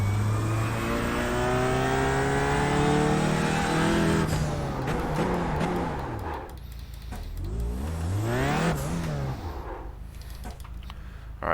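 A TCR touring race car at Sonoma runs at full throttle from the cockpit, its engine howling up through the revs with quick upshifts, then dropping and climbing again through the gears, loud and close.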